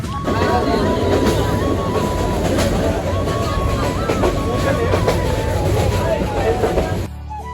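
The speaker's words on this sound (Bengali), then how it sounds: "এইদিকে আমাদের ট্রেন চলতেছে" A train runs along the rails on a morning journey toward Sreemangal, its loud steady rumble and rattle continuing close by throughout, with background chatter and faint bird calls.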